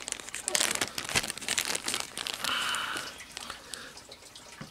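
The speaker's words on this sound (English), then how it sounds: "If I could get the damn Ziploc open" A Ziploc plastic bag is pulled and fumbled open, giving close crinkly rustling and crackling in uneven bursts for several seconds.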